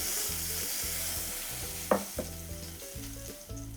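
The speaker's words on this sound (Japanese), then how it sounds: "最後皮目をもう一回少し焼き付けて、 最後に少しカリッとさせたところで火を止めます" Chicken skin sears in a frying pan with a steady close sizzle and crackle, a few sharper pops and scrapes breaking through, with no talking.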